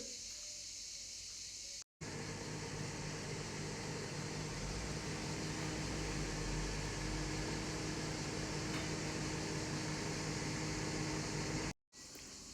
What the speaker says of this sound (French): Et il va donc passer quelques secondes au micro-ondes.